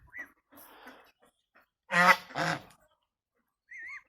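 A goose gives a few honks, two loud close calls in the middle with softer ones before and after, separated by silence.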